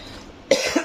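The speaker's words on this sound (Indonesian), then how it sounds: "Kenapa mendadak batuk?" A single short cough bursts out close to the microphone, followed by a smaller second catch of breath. Before it there is only quiet room tone.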